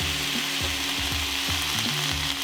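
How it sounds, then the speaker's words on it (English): Vegetables stir-frying for yaki udon in a hot pan, a steady close sizzle and crackle with a few soft scrapes and stirring knocks, no voices. "I stir fry them for about 4 minutes in total, or until they're slightly softened."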